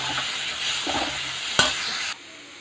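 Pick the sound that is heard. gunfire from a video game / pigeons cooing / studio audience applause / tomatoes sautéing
tomatoes sautéing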